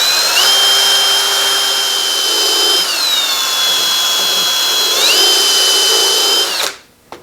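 A power drill whines steadily at close range, drilling a clearance hole in a Hardinge Cataract turret lathe tailstock part, its pitch dipping and rising twice as it bites, then cutting off abruptly near the end.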